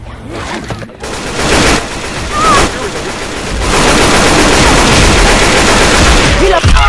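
Rapid bursts of gunfire in the zombie shooter Left 4 Dead 2 fill the mix, loud and dense, building to a sustained barrage in the second half, with players shouting over it.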